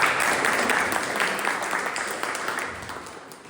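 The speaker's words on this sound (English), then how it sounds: "Big round of applause for Toastmaster." A room of Toastmasters club members applauds the incoming Toastmaster at a meeting, a dense, steady patter of many hands clapping close by that fades slightly toward the end, with no talking over it.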